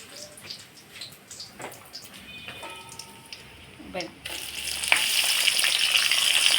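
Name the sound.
onion frying in oil with bay leaves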